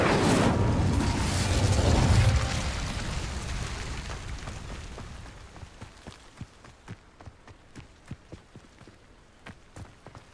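A fire spell cast in the video game Hogwarts Legacy erupts as a loud whooshing burst, then fades into a run of sharp crackling pops and clicks.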